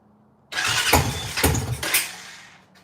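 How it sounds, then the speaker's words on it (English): A Honda Foreman ATV engine cranks to life close by, sputtering and coughing back through the carburetor in uneven bursts before dying away. "It's coughing back out the carburetor."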